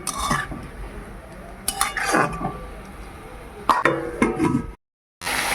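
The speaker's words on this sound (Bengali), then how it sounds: "নাড়াচাড়া করে নিলাম এবার ঢাকা দিয়ে দেবো" A metal spoon clinks and scrapes against a pot while jute leaves are stirred, followed by a lid clattering down onto the pot before a brief silence.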